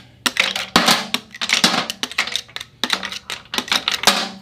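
Sharp metallic clacks and rattles tumble in quick irregular bursts as steel engine lifters drop down into the engine block, knocking against each other, close and fairly loud.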